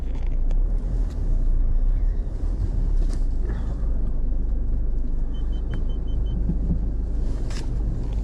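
A car engine hums steadily with low road rumble and wind noise while driving along a forest route, with faint clicks and no speech.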